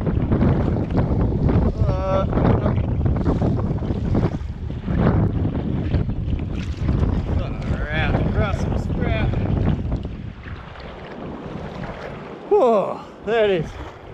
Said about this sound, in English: There we go, wind.